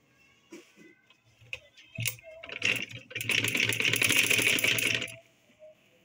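A sewing machine stitches fabric for a baby frock, with a few short clicks and starts, then a steady fast whirring run of about two seconds before it stops, close and clear.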